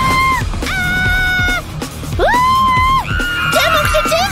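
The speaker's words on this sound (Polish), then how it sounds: "Czemu krzyczymy?" Children's voices shriek and scream in loud, pitched bursts that rise and fall over about four seconds, overlapping one another in a cartoon-like frenzy of yelling.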